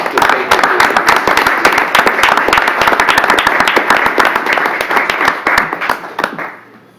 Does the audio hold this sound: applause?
yes